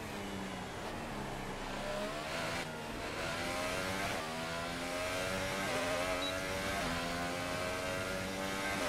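A Formula 1 car engine in the racing game F1 2018 screams continuously, its pitch rising and falling through gear shifts, loud and close with no talk.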